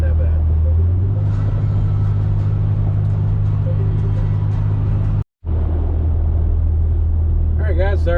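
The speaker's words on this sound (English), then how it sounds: "trying to give you a good representation of what the exhaust sounds like when you're just cruising" A 2020 BMW X3 M Competition cruising on the road, its exhaust a steady low droning rumble inside the cabin with a brief cut partway through and a voice speaking near the end.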